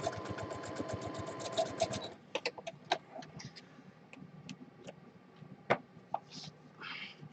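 A sewing machine stitching in a fast, steady whirring run for about two seconds, then stopping and starting in short bursts with clicks and ticks of the mechanism, close and fairly quiet, with no talk.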